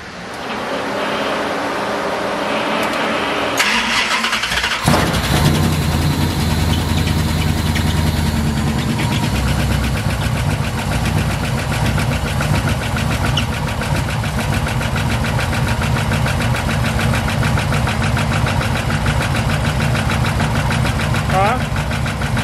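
Car engine cranking and catching, then settling into a rough, loud idle with a steady rumble and knocking; people talk over it.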